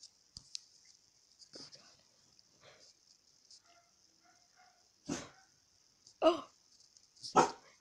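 A sleeping dog lets out soft muffled whimpers and then three louder, separate sleep barks near the end, close by in a quiet room with a faint steady hum behind.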